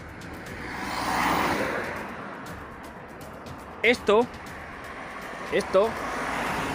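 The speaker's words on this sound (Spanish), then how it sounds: "disculpad por el ruido de los coches" A car swells past in the background, followed by steady roadway noise, while a person speaks briefly over it.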